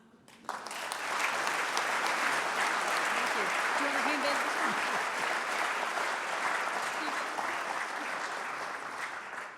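A crowd at the Science New Zealand Awards bursts into applause for an award-winning team after a brief quiet start, the clapping dense and sustained for several seconds before easing slightly, with a faint voice briefly audible beneath it.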